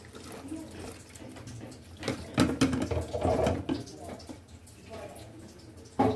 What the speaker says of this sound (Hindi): तो थोड़ा सा पानी डालेंगे इसमें